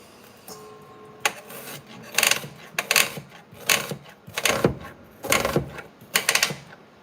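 An already-peeled onion cut up with a knife on a board for homemade meatballs: a series of crisp, loud close chops in an uneven rhythm, about a dozen strokes with short pauses.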